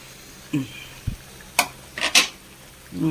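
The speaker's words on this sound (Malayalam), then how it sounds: "ഇളക്കി കൊടുക്കാം ഇത് ഇതിൽ കിടന്നൊന്ന് വേവട്ടെ" A spoon scrapes and clatters against a metal pot in a few short, separate strokes while stirring jackfruit with chicken, close by, with a faint sizzle underneath.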